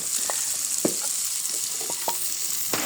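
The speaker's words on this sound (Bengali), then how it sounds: "এই যে পেঁয়াজ দিয়ে দিচ্ছি দেখছো গরম আছে তেলটা তো একদম" Onions sizzling in hot oil, a constant bright crackling hiss broken by several sharp clicks and taps of a utensil against the pan, close by and with no talking.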